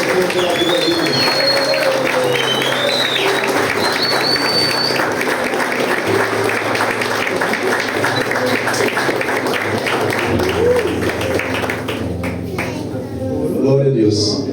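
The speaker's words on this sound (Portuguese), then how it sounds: "Você pode aplaudir pela vida deles." A church congregation at a Baptist service applauding continuously, a dense, loud wash of many hands clapping that holds steady throughout, with some voices mixed in and the clapping thinning near the end.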